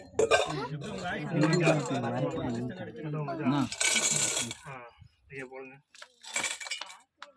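Coins drop into a temple foundation during renovation work on a Murugan temple, giving a few bright metallic clinks and clatters that break through steady nearby talking.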